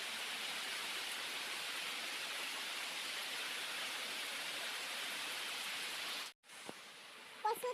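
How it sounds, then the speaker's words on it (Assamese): Steady rain falls outside, a soft, even hiss that runs almost unbroken before cutting off near the end, followed by a few faint clicks. "এইফালে বাহিৰত বৰষুণ"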